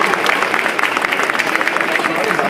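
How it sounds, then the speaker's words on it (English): A comic convention panel audience applauds steadily, dense and continuous clapping filling the room with a crowd murmur mixed in. "Let's give a round of applause for them again"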